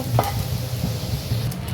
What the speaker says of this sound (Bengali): এই কড়াইয়ের মধ্যে আমি বাদামগুলো ভেজে নিব